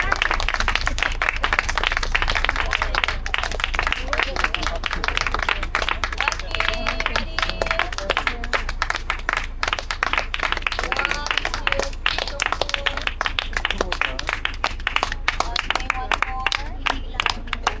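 A group of people on a night firefly-watching boat trip in Loay, Bohol clap together on request, a dense, steady patter of many hands running throughout, with voices chattering underneath.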